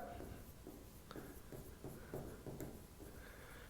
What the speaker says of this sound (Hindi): पहले तो नाम यहां लिख लेते हैं अपन